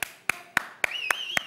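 A lone woman clapping her hands six times in a slow, even rhythm, each clap sharp and close, with a faint tonal background sound running underneath.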